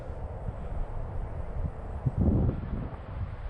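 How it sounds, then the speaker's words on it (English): Strong gusty wind buffets the microphone outdoors at an RC speed run for an Arrma Infraction NASCAR truck, a low rumbling roar that swells briefly near the end, with no voices. "This wind's been crazy."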